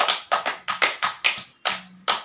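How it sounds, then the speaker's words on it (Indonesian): Classroom clapping for a student: a few hands clap in a loose series of separate, sharp claps at close range, spaced irregularly over about two seconds with short pauses, and no voices. "Tepuk tangan dulu untuk Yaya"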